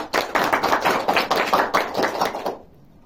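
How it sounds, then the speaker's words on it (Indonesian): A small classroom group claps for two student presenters in an Indonesian lesson, producing a brisk run of close, sharp hand claps that holds steady for about two and a half seconds and then stops abruptly. "Dan bertepuk tangan buat Mbak Dewi serta Mbak Nindi tadi."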